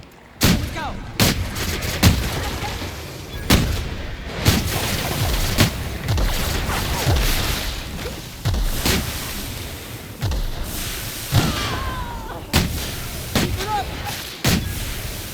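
Rifle gunfire from The Outer Worlds cracks out in repeated sharp, punchy shots at an irregular pace over combat noise, loud and close.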